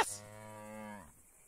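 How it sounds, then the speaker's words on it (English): A cow in the survival game Atlas gives one drawn-out moo, starting with a bright onset and holding steady for about a second before cutting off, loud and alone. "We got a cow right here!"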